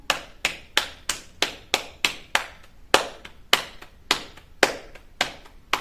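Steady rhythmic pats of hands on knees, about two per second, sharp and close, mimicking heavy raindrops.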